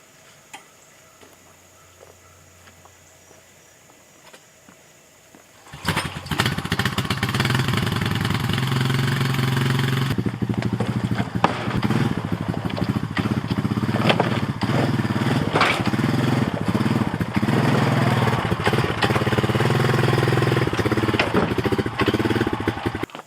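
A 20-year-old Rancher ATV engine cranks quietly at first, then catches around six seconds in and runs on steadily and loudly with an uneven, rattly idle, alone without talk.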